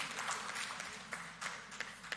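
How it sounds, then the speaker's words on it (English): Audience applause at a press conference for an education oversight committee, a steady, moderately faint wash of clapping running the whole stretch with a few sharper claps standing out. "Give her another round of applause,"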